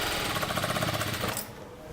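A sewing machine stitches a boat neck kurta seam in a steady, rapid mechanical run that fills most of the clip and then stops abruptly near the end, leaving quiet room tone. The sound is close and fairly loud, and no one speaks.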